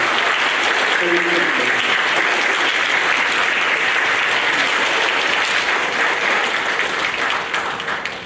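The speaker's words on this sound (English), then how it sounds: "Can you give them a round of applause?" Sustained applause from an audience honoring teachers at a middle school seventh-grade awards program, a dense, steady roar of many hands clapping that holds loud for several seconds before beginning to thin at the end.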